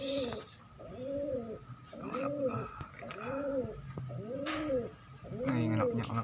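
Pigeons coo in a steady rhythm, repeated rounded calls several times over, fairly close, with faint background noise and a few bird chirps.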